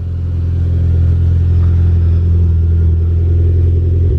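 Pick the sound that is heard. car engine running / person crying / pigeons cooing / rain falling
car engine running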